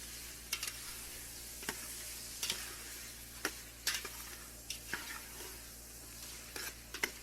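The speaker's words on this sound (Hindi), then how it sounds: "अब इसमें अपने चिकन के पीसेस डाल दें और अच्छी तरह मिक्स कर दें।" Chicken pieces are stirred into sizzling tomato gravy, a faint steady fry hiss under a series of light, irregular spoon scrapes and clicks against the pan.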